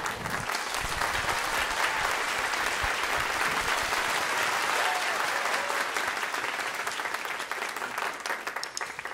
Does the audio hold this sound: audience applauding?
yes